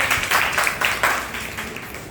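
An audience claps at a Hindi-language training session on moving from culture toward scientific thinking. The applause is a dense, steady wash of many hands at fairly close range, slowly tapering over about two seconds, with no talk over it.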